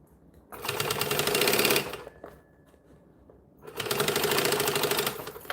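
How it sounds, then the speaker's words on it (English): A sewing machine stitches over the straps of a scrap-fabric bag in two loud, steady runs, each about a second and a half long, separated by a quiet pause. "we're going to stitch over them some more"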